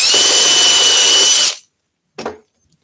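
A loud, steady high-pitched whine of a barrel trimmer trimming a wooden pen blank for about a second and a half, then stopping, followed by one brief burst.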